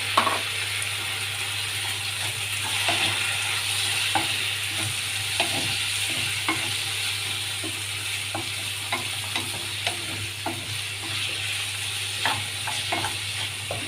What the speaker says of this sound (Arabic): حطي الطماطم، تاخد لها برضه تشويحة كده